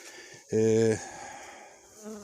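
Honey bees in a beehive in early February give a loud, close half-second burst of buzzing, then a softer, steady hum continues alone.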